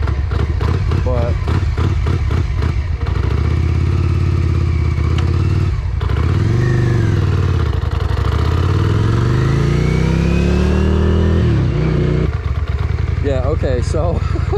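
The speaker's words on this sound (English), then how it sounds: "I was giving it all she had, and I couldn't get this motorcycle over 55 miles an hour" A Yamaha Virago 535cc V-twin motorcycle that seems down on power accelerates hard uphill. The loud, close engine note climbs and dips through gear changes, with a rough clattering edge, and a voice talks over parts of it.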